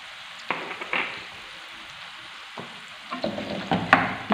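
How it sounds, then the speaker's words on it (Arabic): Soft sizzling with scraping strokes of a utensil stirring apples cooking with sugar in a pan, intermittent and close, growing busier toward the end. "نقعدو نحركو حتى هذاك التفاح يدوب لنا"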